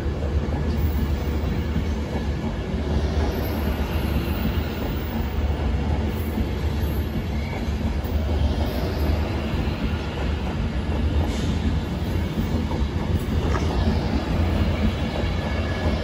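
A Class 390 electric train moving at Stafford station, a steady heavy rumble of wheels and carriages with faint rhythmic clicks over rail joints, loud and close throughout.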